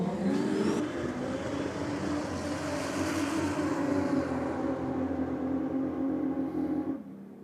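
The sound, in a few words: drag race car making a high-speed pass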